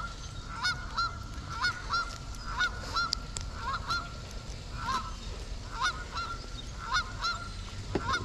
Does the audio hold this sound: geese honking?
yes